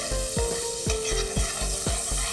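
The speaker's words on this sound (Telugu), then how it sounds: "సో బటర్ మెల్ట్ అయింది." Butter for a white roux melting in a pan gives a low, steady sizzle, broken about every half second by soft scraping stir strokes. It sounds close, with no one talking.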